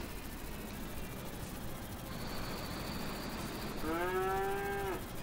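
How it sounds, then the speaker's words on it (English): A cow moos once in the Agrar Simulator 2013 farming game, a loud drawn-out low call over a steady background hum near the end of the clip. "Shut up, cow."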